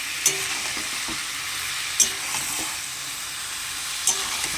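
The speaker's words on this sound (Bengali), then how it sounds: "মশলার সঙ্গে মাংসের সঙ্গে ভালো করে কষবো এখন আমি মাংসটা" Chicken meat and spices being stirred and sautéed in a pan for a Sunday chicken curry, with a steady sizzle throughout and a few sharp spatula scrapes against the pan, close and alone with no talk.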